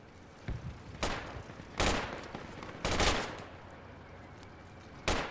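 Gunfire in the Project Reality video game: about five sharp, loud bursts of shots at uneven intervals, with a low rumbling ambience between them.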